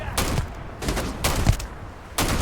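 Gunfire in the video game Starfield: a few loud shots or short bursts spaced roughly half a second apart, with punchy low thumps and bright cracks, heard close and without talking.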